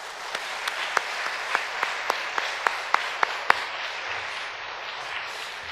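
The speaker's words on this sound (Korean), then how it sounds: "큰 축복의 박수를 보내주시면 감사하겠습니다" A church congregation claps in blessing for a missionary, with separate sharp claps standing out over a steady wash of applause that lasts several seconds and then fades away.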